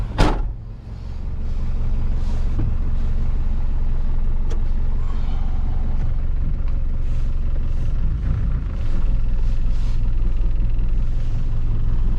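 A Ford Transit van's diesel engine idles steadily while warming up, a loud, even low rumble running without a break.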